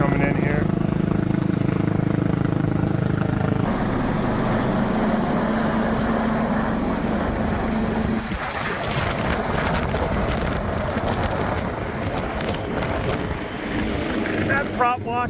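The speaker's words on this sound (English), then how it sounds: "Got a helicopter coming in here." A helicopter flies in and sets down over salt water, its rotor chop and engine roar loud and close throughout, with someone speaking over it.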